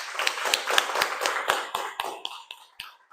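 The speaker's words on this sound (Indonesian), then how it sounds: "Oke, berikan aplaus." A small audience clapping after a presentation, a short burst of separate, fairly sparse claps that thin out and fade within a few seconds.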